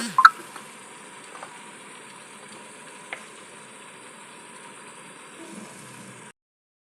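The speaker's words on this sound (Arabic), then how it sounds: "راني نقلي فيه بالسمن والزيت يتقلاو" Meat frying in ghee and oil, a steady soft sizzle throughout with a few brief clicks and clatters near the start and midway.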